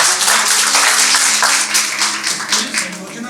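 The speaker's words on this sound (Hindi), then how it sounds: "और तालियां बजा के सर का स्वागत करें।" An audience at a Hindi Journalism Day (Bhartiya Patrakarita Divas) 2024 university event claps to welcome a guest: dense, steady applause that stays loud throughout, easing slightly toward the end.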